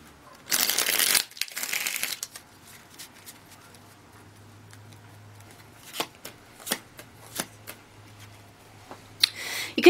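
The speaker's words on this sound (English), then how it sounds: "One more shuffle, thank you." Tarot cards riffle in two quick bursts of shuffling, followed by soft taps and flicks as they are handled near the listener against a quiet background with a faint low hum.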